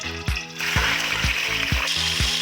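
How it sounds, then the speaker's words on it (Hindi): Chicken frying in hot oil in a kadai for chicken qorma, a continuous bright sizzle with rhythmic scraping stirs of a spatula about every half second. "ये हमारे पास 3 पाव चिकन है, इसको ऑयल में फ्राई कर देंगे।"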